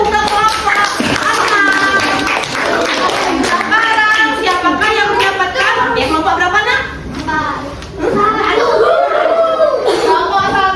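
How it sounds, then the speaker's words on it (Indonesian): Schoolchildren in a classroom clap their hands together in a dense, loud burst of applause lasting several seconds, mixed with children's chatter and laughter, briefly dipping before picking up again. "Oke, beri tepuk tangan dulu."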